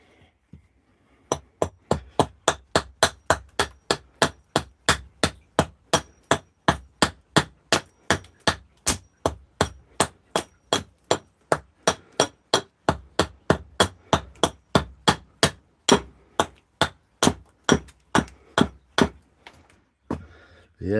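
Steady, evenly spaced sharp strikes of a hand tool into wood while a wooden bowl is carved outdoors at sundown, loud and close, continuing for around forty blows with no pause.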